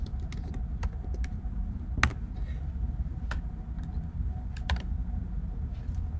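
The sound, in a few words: typing text on a computer keyboard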